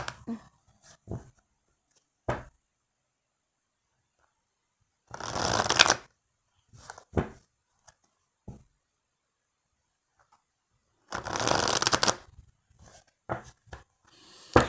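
Oracle cards are shuffled by hand in two longer bursts of riffling, with scattered short taps and card handling between them, close up and with no voices.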